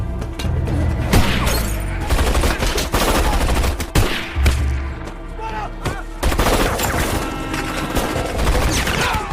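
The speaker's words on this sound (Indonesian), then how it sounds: "ternyata agen Cruz berniat membunuh si Tim. Namun Tim tiba-tiba tersandung sehingga tembakan agen Cruz meleset" Loud gunfire in a film scene comes in repeated bursts of sharp shots and rapid automatic fire, with booming impacts and some shattering debris throughout.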